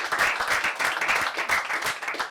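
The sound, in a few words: audience applause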